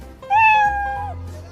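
A cartoon cat meows once, a clear, loud, drawn-out call that rises and then falls away, heard alone with a low hum underneath.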